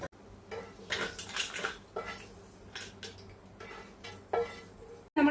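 Ghee-roasted nuts are shifted from one cooking pot into another, with a series of quiet metal spoon scrapes and clinks against the vessels and a sharp clank at the end, no talking.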